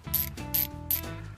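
A Klein ratchet clicking in three quick rhythmic bursts of sharp metallic pawl ticks, close and loud, with nothing else underneath.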